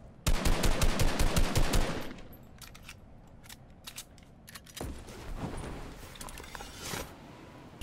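A video-game Tac gun fires a rapid automatic burst of about fifteen sharp shots in under two seconds, followed by scattered distant gunfire and clatter at lower level.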